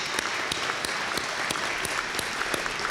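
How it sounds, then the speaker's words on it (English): An audience at the 2023 Kitchener State of the City Address applauds dignitaries, producing a dense, even round of clapping with scattered sharper claps that fills the whole stretch. "give a round of applause to our dignitaries who are with us today"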